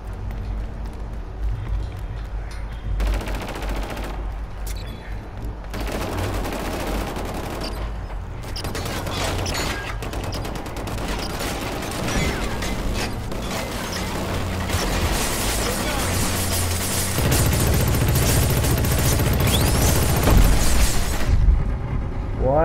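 Heavy AR assault rifle fire in the shooter game Killzone Shadow Fall, dense rattling bursts that keep going throughout with heavy booms and game noise, growing louder and fuller toward the end.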